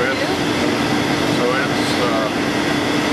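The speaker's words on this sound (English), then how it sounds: "this boiler, we moved this boiler in here from the old heat plant" A boiler built around 1982 hums steadily in a heating plant, a loud, even mechanical drone with broadband air noise, while a person talks over it.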